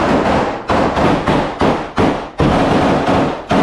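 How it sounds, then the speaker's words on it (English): Loud gunfire from people shooting in news footage, a rapid series of about eight sharp, booming shots at an uneven rhythm with no talk. "so just people shooting, that's all we hear"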